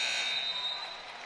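The game-ending buzzer at a boys varsity high school basketball game at Westview High School, a bright sustained electronic tone ringing through gym noise and fading slightly as it ends.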